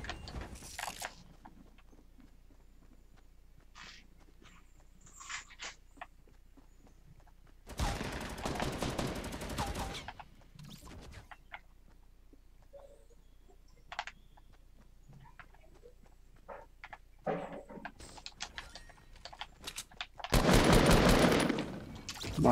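Revolver gunfire in the Fortnite battle royale video game: two loud bursts of shots, one midway and one near the end, separated by quieter stretches of faint game sounds and scattered clicks.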